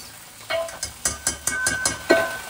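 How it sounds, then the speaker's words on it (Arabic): Rice is stirred into melted butter and oil in a hot pan. A soft sizzle runs under a series of sharp, close scraping strokes spaced about a quarter second apart, with no voices. "غادي نشحر غير شويه هاد المزيج ديال الزبده والزيت"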